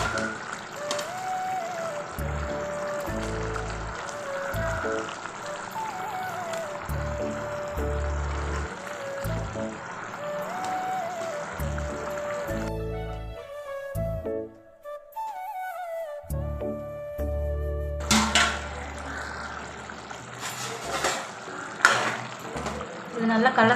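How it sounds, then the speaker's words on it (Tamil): Dried fish is added to a simmering curry and stirred in, producing wet sloshing and liquid pouring sounds with a speaking voice over much of it. "அந்த கருவாடை எடுத்து இந்த குழம்புல நம்ம சேர்த்துக்கலாங்க"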